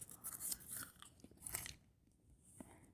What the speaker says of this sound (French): Et vous le mâchez.